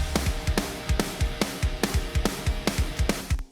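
A raw, unprocessed snare drum strikes steadily through a rock groove, each hit sharp and upfront over kick drum and dense band backing, with no voices.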